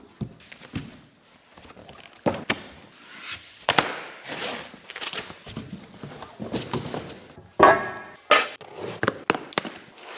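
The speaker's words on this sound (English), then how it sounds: "Another box of bolts." Metal bolts in a box are handled while a Land Rover Defender camper is fitted out, producing scattered clinks, knocks and rattles at close range, irregular and fairly quiet.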